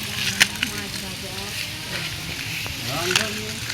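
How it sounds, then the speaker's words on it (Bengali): Fish frying in a pan, a crackling sizzle with sharp spits and pops, while voices talk faintly in the background. "মাছ ভাজা"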